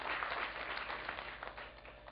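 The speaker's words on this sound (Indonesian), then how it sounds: "Tepuk tangan buat Tuhan Yesus." Church congregation clapping during a worship service, a steady wash of many hands, moderately distant and fairly quiet, fading slightly toward the end.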